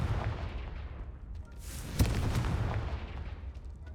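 A Confringo blasting spell explodes in the video game Hogwarts Legacy with a sharp crack and a rumbling boom over a steady low roar of game ambience.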